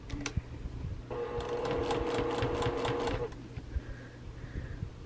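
Sewing machine stitching binding onto a quilt: a steady, rapid mechanical whir of needle strokes running for about two seconds, close and clear, with quiet handling sounds before and after.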